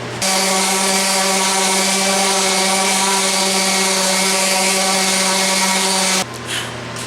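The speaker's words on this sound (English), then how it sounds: "So let's move on to sanding off, cleaning up the top of this real quick." A power sander drones steadily and loudly with a buzzing hum for several seconds while sanding the top of a wooden board, then cuts off abruptly.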